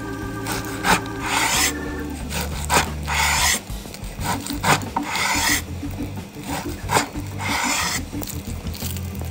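A knife slices beef into thin slices on a wooden cutting board, giving rhythmic rasping, scraping strokes that are close and fairly loud. The cuts come in quick repeated bursts with short pauses between them.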